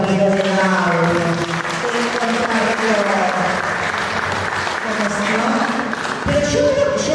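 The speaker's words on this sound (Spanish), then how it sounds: "Pido un aplauso para los compañeros de audio." A room full of people claps steadily for an audio crew at a Spanish-language book presentation. Voices and murmurs from the crowd mix in with the applause, which continues at an even level throughout.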